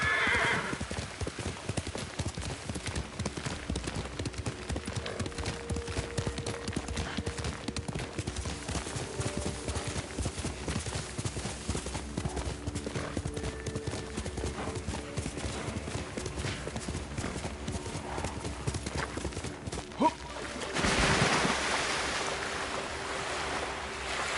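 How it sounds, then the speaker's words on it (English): In the video game Ghost of Tsushima, hooves clip-clop steadily over a wash of ambient noise, with a horse whinnying, a sudden bright swell of sound near the end. "Horse!"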